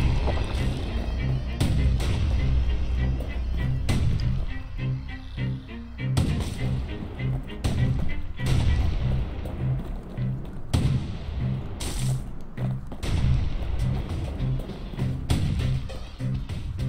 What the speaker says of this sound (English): I think I'm supposed to draw the fire of these turrets to kill these.